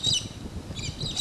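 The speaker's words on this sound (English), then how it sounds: "listen to the birds." Birds sing and chirp in outback bush scrub, bright high calls rising over a low steady rumble of wind or engine noise, several brief phrases close by.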